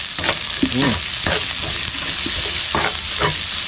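Garlic, onion and chilies sizzle and crackle steadily in a hot pan, with occasional stirring scrapes and a short voice-like tonal sweep early on, loud and close throughout.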